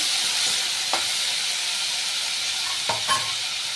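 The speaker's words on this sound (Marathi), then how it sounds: "चांगलं परतायचं आहे ते शेंगा मऊ होईपर्यंत परतायचं आहे चांगलं" Cluster beans are sautéed in a pan under a loud, steady hiss of frying. A few scraping stir strokes cut through close by, and no one speaks.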